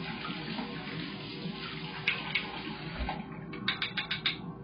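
Kitchen tongs rinsed under a running tap, a steady wash of water with a few sharp metallic clicks and taps as the tongs are handled, ending in a quick burst of rattling knocks.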